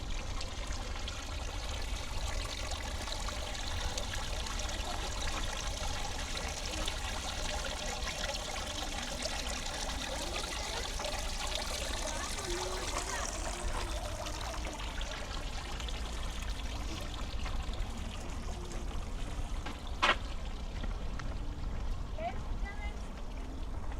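Fountain water in Portland's International Rose Test Garden on a summer evening, a steady splashing trickle heard from a moderate distance, with people talking faintly in the background.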